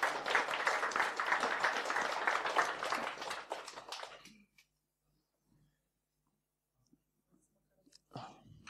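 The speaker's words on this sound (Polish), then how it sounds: "Poproszę o brawa." Audience applause at a technical talk, a dense burst of clapping for about four seconds that cuts off abruptly, followed by near silence and a brief faint voice at the end.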